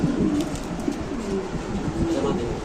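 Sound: white King pigeon cooing

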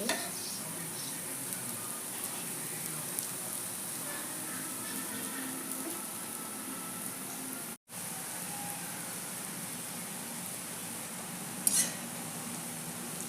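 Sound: frying masoor lentil fritters (bora) in a pan

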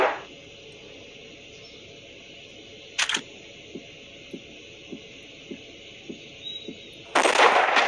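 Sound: sniper rifle shot in the video game Hunting Sniper

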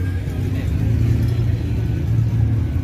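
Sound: vintage car engine rumbling at classic car meet

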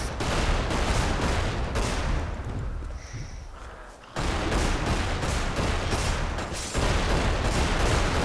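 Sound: gunfire in video game Magicka

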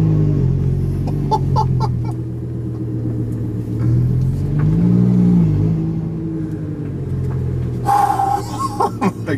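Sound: Armytrix Lamborghini supercar engine revving, exhaust valves open

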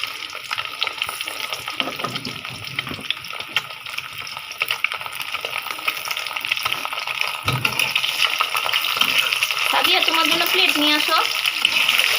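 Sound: eggs frying in oil

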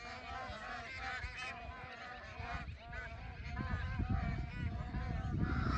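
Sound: demoiselle cranes calling in flight

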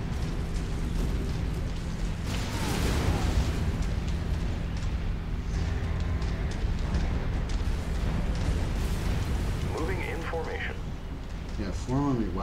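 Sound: weapon fire in Mechwarrior 5 video game

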